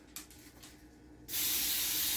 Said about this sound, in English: And we're going to spray it with some of this Baker's Joy.